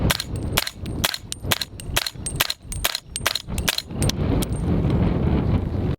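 Suppressed rifle firing Modern Arms International 220 grain ammunition, a rapid series of about a dozen sharp, clipped shots close by outdoors, followed by wind noise.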